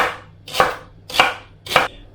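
Celery being chopped on a cutting board for a slow-cooked beef stew, with three evenly spaced, crisp knife thuds, close and loud, and no talking.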